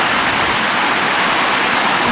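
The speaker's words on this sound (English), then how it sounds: "There's a waterfall over there." Waterfall near a stream crossing after rain, a loud, continuous rushing roar of falling water that fills the whole scene without a break.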